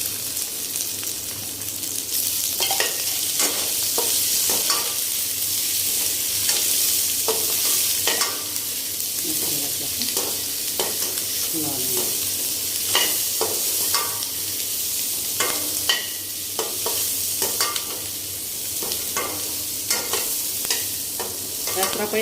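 Garlic, two red chillies, ginger, onion and tomato fry in a pan for a dhaba-style dum aloo curry, a continuous close sizzle punctuated by repeated scraping and clinking of a spoon stirring, with no speech.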